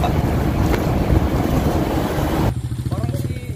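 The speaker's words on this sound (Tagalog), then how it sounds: "Yun, yung mga bangka." Boats on the water outdoors, with a constant loud rush of wind and waves that cuts to a quieter, choppier wash partway through, as a voice speaks briefly.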